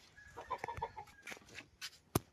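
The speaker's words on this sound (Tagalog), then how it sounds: "yung alaga kong manok na pinapadami" A pet chicken being raised to breed clucks in soft, quick bursts near a farm hut, scattered low clucks with a sharp knock or tap standing out near the end, all fairly faint.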